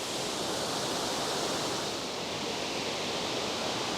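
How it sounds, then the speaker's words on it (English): Waterfall at Middle Creek pours in a steady, dense broadband rush, loud and close throughout with no voices over it. "That's the waterfall straight there behind those trees."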